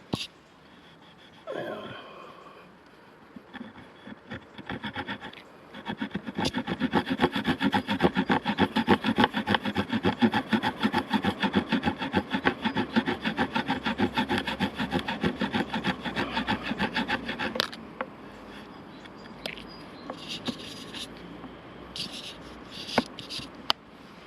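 A saw-back knife cuts wood in quick, regular back-and-forth rasping strokes for about eleven seconds, close and fairly loud, with scattered handling knocks before and after.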